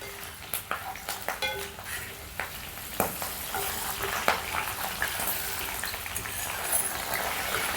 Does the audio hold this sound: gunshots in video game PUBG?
no